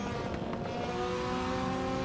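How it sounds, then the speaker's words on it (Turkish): A Honda S2000's exhaust drones steadily in the Assetto Corsa racing game while the throttle is held. The engine tone is loud and continuous, with no talk over it. "o S2000'in egzoz sesi felaket geliyor Ahmet gaza bastıkça"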